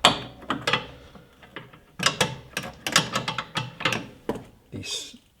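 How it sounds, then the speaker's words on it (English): A hand wrench tightening a bolt while installing a Qualipieces Trail Blizzer ice scratcher on a snowmobile gives quick metallic ratcheting clicks and clanks in irregular bursts, close and moderately loud. "Once you get it snug, you can flip it around. Use the open end to crank it tight."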